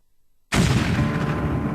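A propylene gas tanker truck exploding: after half a second of silence, a sudden loud blast erupts and keeps roaring as a dense, sustained rumble to the end.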